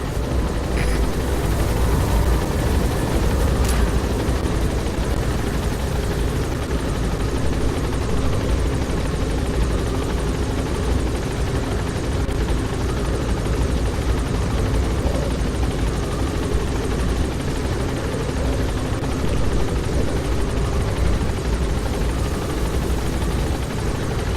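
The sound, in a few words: helicopter in a video game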